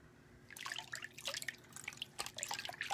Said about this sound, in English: I'm gonna rinse this rag out. I mean, facial flannel out.